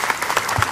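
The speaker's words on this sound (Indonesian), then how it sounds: "Tepuk tangan dulu dong." A majelis taklim audience claps together in a short, continuous burst of applause, close and fairly loud, with no voices over it.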